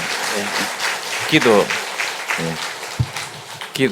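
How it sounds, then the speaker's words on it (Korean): An audience applauds at the end of a special lecture on the North Korea–US summit and regional international affairs, dense clapping filling the room while a voice carries on over it. "우리 박수로 감사합니다."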